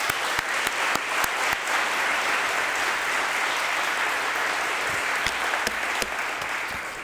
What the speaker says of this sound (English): Let's give Scott a round of applause